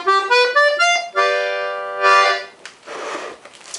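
A short run of reedy, clean notes on a Weltmeister Juwel accordion's clarinet register, a single middle reed, then a held chord and a few softer fading tones, played alone without talk.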